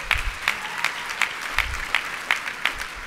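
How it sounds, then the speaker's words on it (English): Applause from a crowd at a gala, a steady wash of clapping with a few sharp, regular claps standing out near the front. "How about a round of applause for Mike Padey, my good friend."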